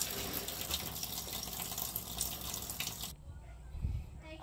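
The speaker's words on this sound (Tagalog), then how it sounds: "Ayan, tuloy-tuloy na natin 'to paghugas." Tap water runs steadily into a sink while dishes are washed, a continuous near splashing rush that cuts off partway, leaving faint handling sounds and brief quiet talk.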